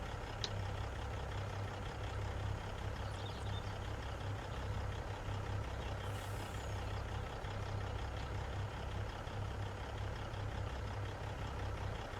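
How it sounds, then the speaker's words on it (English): A truck engine in Farming Simulator 25 idles with a steady low rumble throughout, unchanging and continuous, with no voices. "let you listen or enjoy the sound of this truck"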